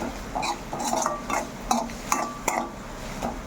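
Egg fry being stirred in a pan, with repeated clinks and scrapes of a spatula against metal over a soft background sizzle, close and moderately loud.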